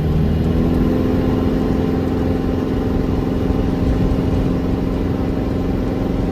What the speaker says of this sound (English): the exhaust is a little bit loud when you're accelerating